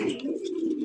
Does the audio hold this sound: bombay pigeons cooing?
yes